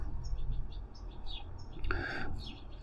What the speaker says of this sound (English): And the birds are going crazy for some reason.